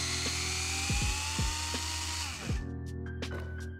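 Small electric driver with a 2.5mm hex bit spinning out screws from the underside of an RC 4x4 chassis during a transmission upgrade, a whining motor hum with a few rising and falling pitch sweeps as it speeds and slows, then stopping.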